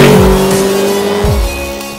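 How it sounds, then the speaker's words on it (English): Mercedes SLS AMG engine droning steadily as the car rolls toward a racetrack in Las Vegas, with gear-change dips and a brief tire note, loud and close from inside the cabin. "here we are in the Mercedes SLS AMG. We're about to make our way onto our racetrack out here in Las Vegas"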